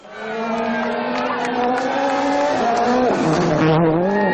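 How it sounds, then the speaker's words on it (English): Sebastien Loeb's Citroën rally car, 2011 WRC Rally Italia Sardegna, blasts off on a slippery gravel stage, its engine roaring loud and close through rising and shifting revs without a break. "Sebastian Loeb blasts off into this 10-kilometre stretch of road"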